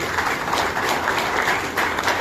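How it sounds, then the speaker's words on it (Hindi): Dense, steady audience applause fills a hall at the first lovebird show of the Lovebirds Society of Karachi at Avari Tower, with clapping sustained and even throughout and no talk over it. "मैं आप तमाम लोगों की भरपूर तालियों में बुलाना चाहूंगा none of them Aqeel Bukhari साहब को"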